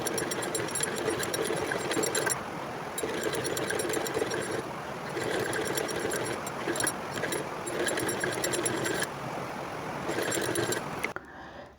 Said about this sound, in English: We quickly go to our machine and sew on the 1 inch that we have marked and we have fold.